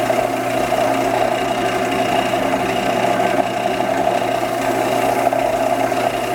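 A wood lathe turns at slow speed while a sycamore bowl is polished with abrasive, producing a steady, even motor hum with a constant tonal drone and faint rubbing texture, no talk.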